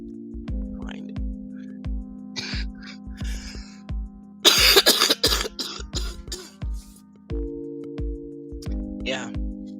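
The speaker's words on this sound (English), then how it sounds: "because now I am coughing" Several throaty coughs and throat clearings break out close by, with a burst of harsh coughing in the middle, over a steady rhythmic ticking hum.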